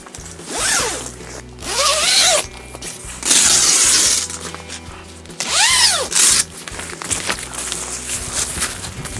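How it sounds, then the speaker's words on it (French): Zipper on the door of a Prologic Spider Trio carp-fishing bivvy being pulled down in several quick rasping strokes, loud and close, with short pauses between pulls and no voices. "il suffit de baisser la fermeture éclair de cette porte"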